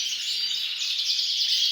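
Canaries chirp and trill in a dense, continuous high chorus from a flock kept at a breeding setup, steady and fairly loud with no voices.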